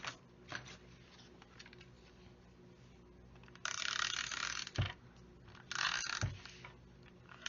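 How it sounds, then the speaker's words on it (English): A tape runner drawn across the back of a cut card piece during card making, giving two short, close, rasping glides with soft handling taps between them, quiet and without speech. "I'm going to put some tape runner on the back side of this piece"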